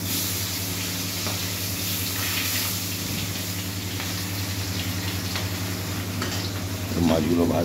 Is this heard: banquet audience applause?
no